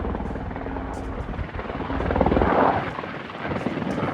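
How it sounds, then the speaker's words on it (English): A helicopter's rotor thrum fills the air, loud and close overhead, swelling as it passes with a rough, chopping drone. "admire this big old helicopter coming over us here"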